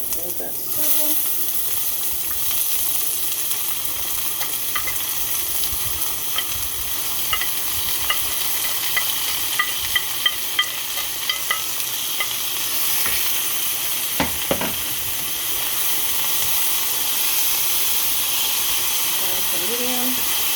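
Oil heating in a hot pan for a baked ziti dinner gives a steady, fairly loud hiss and sizzle, with a few small crackles and utensil taps partway through.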